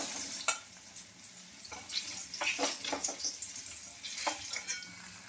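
Eggplant slices frying in a pan, a soft ongoing sizzle with a few sharp scrapes and clinks of a utensil turning them, close and fairly quiet, no voices.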